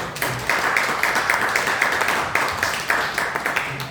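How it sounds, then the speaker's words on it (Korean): A Korean church congregation claps together in celebration during a Sunday service, a moderately loud burst of hand claps that swells and dips in uneven waves, with faint voices mixed in. "우리 박수로 한번 축하하고"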